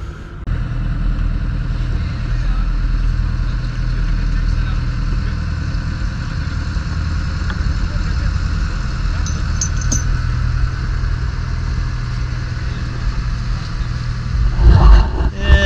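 A dive boat's engine off Guernsey as the boat heads out, a loud continuous low drone running throughout, with some rougher noise near the end.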